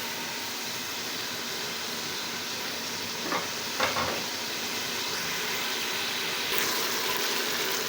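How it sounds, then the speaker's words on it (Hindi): Meat and peas fry in a pan with a steady, loud broadband sizzle and hiss, broken by a couple of brief stirring scrapes, with no talking. "अब हम इनको भी थोड़ी देर के लिए गोश्त के साथ फ्राई करेंगे"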